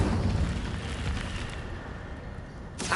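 Incendio fire spell cast in Hogwarts Legacy: a dense, roaring burst of flame that fills the whole three seconds at steady loudness, then cuts off abruptly.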